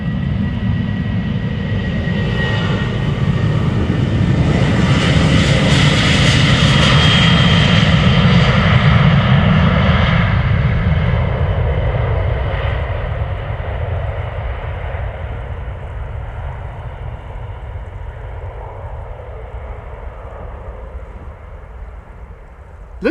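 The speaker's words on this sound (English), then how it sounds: "Norwegian in the Otto Sverdrup livery, now on its way spooling up" A Norwegian Boeing 737-800 in Otto Sverdrup livery spools up its jet engines for departure from Amsterdam Schiphol, a loud, close, broad roar that swells over the first ten seconds and then slowly fades as it moves away, with no voices.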